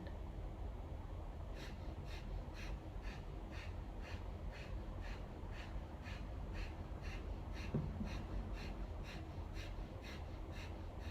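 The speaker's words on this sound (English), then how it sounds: "and begin breath of fire" Rapid, forceful breath-of-fire breathing during a Kundalini yoga session: quiet, evenly spaced nasal pulses repeat about twice a second over a soft background hiss, with no talking.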